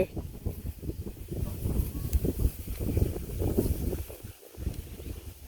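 Gusty wind buffets the microphone outdoors near rice fields, uneven low rumbling bursts that rise and fall loudly over several seconds with brief lulls between.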